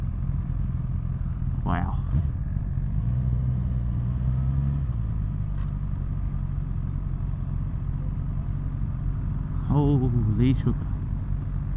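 Motorcycles and cars idle together at a small South-East Queensland motovlogger meet, a loud, steady engine rumble that fills the whole scene while people talk and exclaim over it.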